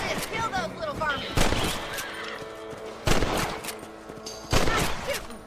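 Three sharp gunshots ring out in Red Dead Redemption during a rabbit hunt, each loud crack followed by a decaying tail, spaced a second or so apart over game ambience with horse sounds nearby.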